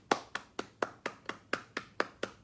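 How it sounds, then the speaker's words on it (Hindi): Single pair of hands clapping close up in a steady, even rhythm, about ten sharp claps over a couple of seconds, fairly faint and with no talking. "आपके लिए तालियां तालियां"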